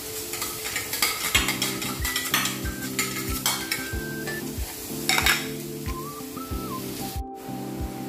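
Carrots sautéed in a pan for fried rice, with a utensil stirring and scraping over a steady sizzle while background music plays throughout.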